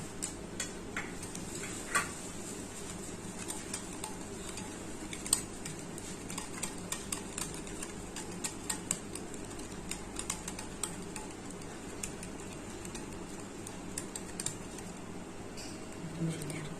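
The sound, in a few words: mixing eggs and sugar for chocolate cake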